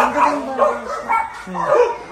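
A dog barks and yips several times in quick succession, close by, with short whimpering tones between barks.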